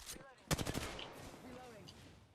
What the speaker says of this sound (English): Shots fired and they're... I'm taking shots.